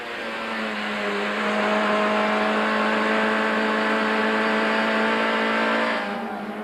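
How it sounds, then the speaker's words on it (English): A 1998 BP Nissan Primera touring race car engine at Kyalami holds a loud, sustained high-pitched whine, steady and close, swelling in briefly and fading slightly at the end. "The de Villiers-van der Linde scrap produced some marvellous race cam action from the BP Nissan Primera"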